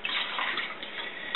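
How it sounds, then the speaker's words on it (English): About a cup of water poured into a pot on a stove, a close, continuous splashing gurgle lasting just over a second, alone without speech. "I'm going to put a cup of water in this pot"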